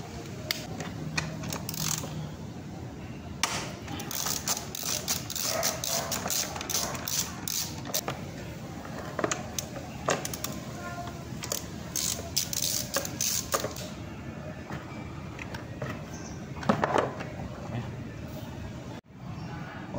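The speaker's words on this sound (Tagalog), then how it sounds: "alisin muna natin yung bolt sa airbox" A 10mm socket ratcheting out the airbox bolt on an Easyride 150Fi scooter, rapid close clicking that runs in uneven bursts over a low background hum.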